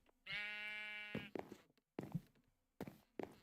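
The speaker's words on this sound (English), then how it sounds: "Sheep." Minecraft sheep giving a loud, harmonic bleat up close, followed by several short thumping footstep-like clicks and blocky game sounds.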